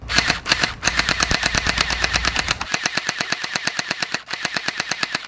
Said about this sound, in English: And just by shooting it, the pistol's definitely way stronger.